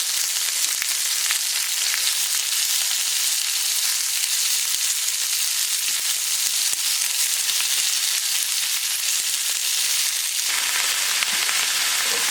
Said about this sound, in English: we're just going to start loading our meat in. And again, we're just going to brown the outside of this